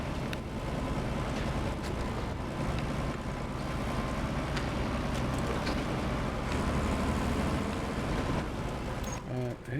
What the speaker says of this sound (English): I'm just driving my truck.